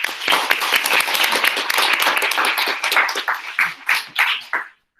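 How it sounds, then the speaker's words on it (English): Audience applause at the opening ceremony of an online exchange between Fukushima's Aizu Gakuho High School and Taipei's Jianguo High School, dense close clapping that thins into a few separate claps before cutting off. "let's give them a round of applause"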